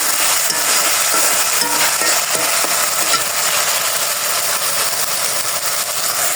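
A spice paste is stir-fried in a pan with a steady, loud sizzling hiss and faint scraping of the spoon underneath, no voices.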